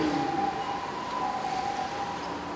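An ambulance siren wails steadily in the background during an outdoor street speech, its tone holding level with slight pitch shifts, fairly distant and continuous throughout.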